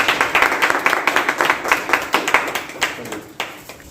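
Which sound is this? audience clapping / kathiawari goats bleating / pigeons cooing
audience clapping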